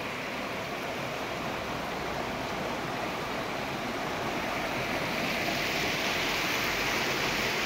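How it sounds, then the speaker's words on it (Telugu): Water flowing steadily near a family's stay on a morning tour of Maredumilli, a continuous even rush of broadband noise that holds unchanged from start to finish with no voices. "ఇది వాటర్ ఫ్లో అవుతున్నటువంటి వ్యూ."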